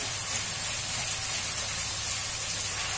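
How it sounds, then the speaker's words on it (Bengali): Onions and prawns frying in hot oil in a pan, a soft steady sizzling hiss that holds evenly and alone at low volume. "পেঁয়াজের মধ্যে যে জলটা আছে, তেলে জলে একসঙ্গে ভাজতে ভাজতে জলটাও শুষে যাবে"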